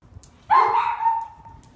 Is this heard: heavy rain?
no